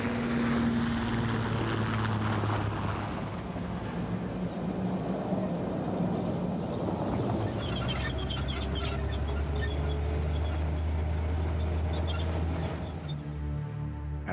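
A helicopter heading out on a hot-air balloon chase drones loudly and continuously from close range, its rotor and engine noise steady throughout with no talk.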